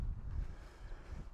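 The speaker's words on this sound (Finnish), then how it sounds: "tuuli on vähän rapsakka." Brisk wind buffeting the microphone in low, gusty rumbles at a hang gliding launch site, steady and fairly strong throughout.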